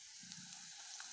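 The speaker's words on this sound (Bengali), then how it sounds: "এটা এখন পেঁয়াজ মরিচ দিয়ে ভালো মতন ভেজে দিয়েছি, লাল লাল করে ভাজা করব।" Onions and chillies fry in mustard oil with ginger-garlic paste, producing a faint, continuous bubbling sizzle throughout with no talking.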